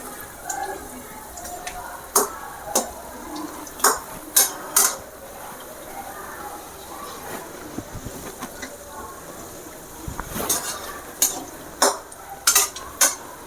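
Snake gourd rings fry in oil with a low continuous sizzle, broken by sharp metallic clinks and scrapes of a utensil against the pan at irregular intervals.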